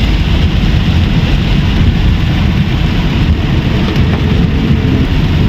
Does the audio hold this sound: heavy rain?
yes